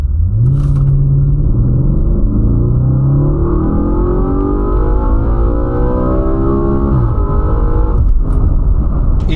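A 4.2-liter naturally aspirated V8 in an Audi RS4 B8 revs loudly and continuously, its pitch climbing steadily across several seconds, dropping briefly, then rising again, a close, full-bodied engine roar with no talking.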